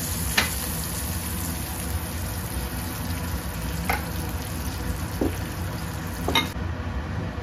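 Potato pieces frying in oil in a wok give a steady, close sizzle throughout, with a few sharp clicks of stirring and no talking.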